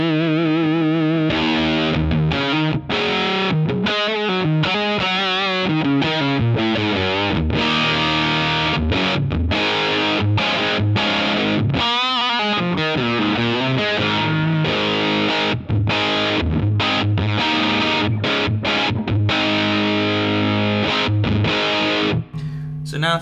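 Les Paul Junior electric guitar with full volume and tone through a Beatronics Royal Jelly fuzz pedal, a thick saturated fuzz riff of chords and single notes, loud and continuous with sharp rhythmic breaks.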